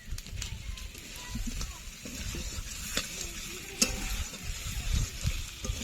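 Mutton is frying in a pan for a village-style curry. It sizzles and crackles steadily, with scraping stirs and occasional pops, and a voice talks over the cooking.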